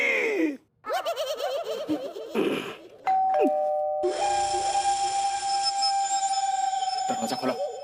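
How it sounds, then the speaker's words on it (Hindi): A doorbell rings at a home's front door in a Hindi TV comedy scene, sounding as a bright sustained ding-dong tone for several seconds amid indoor noise and brief voices. "तुम्हें कितनी बार बोला है कि दरवाजे की घंटी ठीक करा लो"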